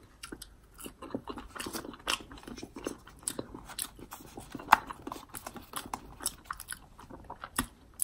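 Loud, close crunching and smacking while eating crunchy Taco Bell food, with irregular rapid bites and chews continuing throughout, no talking.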